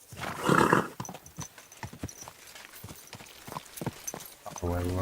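Horse hooves clip-clopping at a quick pace in the video game Kingdom Come: Deliverance II, a rapid run of hoofbeats following a loud burst, ending in a low steady hum.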